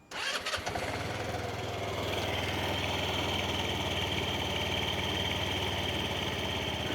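A SYM Jet scooter engine fires up on its electric starter, a quick cranking burst settling at once into a steady, loud idle that runs unbroken to the end with a low, even buzz.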